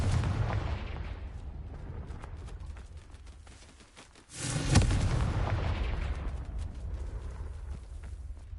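The Confringo spell in a Hogwarts video game sets off a rumbling, blasting explosion. The heavy roar fades, then a sharp burst cuts in and is followed by a sustained, booming, crackling rumble.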